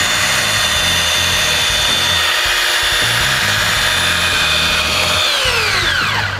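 A Flex 3401 rotary buffer polishing a vertical car panel whines loudly and steadily up close, its pitch rising and falling as the speed changes, then winding down near the end.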